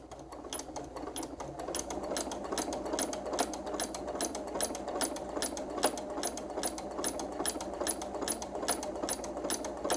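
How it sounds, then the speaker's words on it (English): A sewing machine runs a quilt seam for a flying geese block, a steady rapid stitching rattle with regular needle ticks, close but moderately quiet and uninterrupted, no voices. "So I'm sewing this line, so I'm going to sew right next to it on this side"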